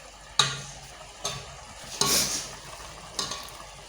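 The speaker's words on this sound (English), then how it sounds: "Make sure you stir it, it's looking like it already." Nigerian mixed okro soup being stirred in a pot, with a few scraping strokes and soft simmering sizzle between them, quiet and close.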